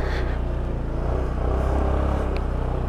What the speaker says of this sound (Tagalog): Yan, bumabalagbag yung motor ko.